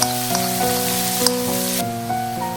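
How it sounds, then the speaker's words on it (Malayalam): Finely chopped shallots, dried red chillies and curry leaves sauté in hot oil in a Kerala kitchen, a loud, continuous close sizzle with occasional spatters over background music. "കുറച്ച് ചുവന്നുള്ളി ചെറുതായിട്ട് അരിഞ്ഞതും, കുറച്ച് വറ്റൽ മുളകും, കുറച്ച് കറിവേപ്പിലും കൂടെ എണ്ണയിലൊന്ന് വഴറ്റുവാണ്"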